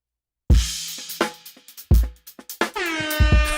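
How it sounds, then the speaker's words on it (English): Loud, punchy blasts of an air horn sound effect, stacked over sharp hits and ending in a long, brassy honk. "Hit the air horn."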